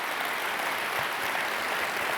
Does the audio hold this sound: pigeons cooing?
no